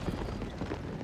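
Galloping hooves of horse archers in the Age of Mythology strategy game, a steady dense patter of clip-clop beats blended with busy battle ambience, moderately loud and continuous throughout.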